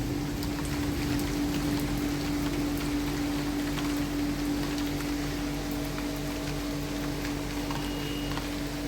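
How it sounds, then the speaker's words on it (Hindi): Steady patter of light rain falling, a soft continuous hiss with a low mechanical hum running underneath throughout. "हल्की हल्की बूंदें पड़ रही हैं, लेकिन कुछ भी है, बारिश तो हो रही है।"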